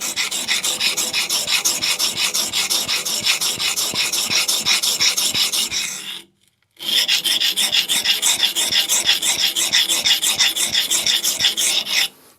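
By hand, a newly forged knife's bevels are ground on a coarse King 120 grit whetstone, giving a loud, continuous rasping scrape in fast back-and-forth strokes, broken once by a brief pause.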